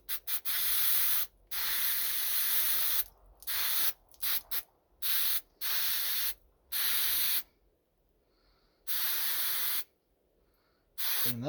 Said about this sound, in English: Now we'll take some carb clean to these screens and